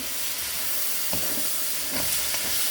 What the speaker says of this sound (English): the onions are pretty much sauteed. They've been sauteing now for about 6 minutes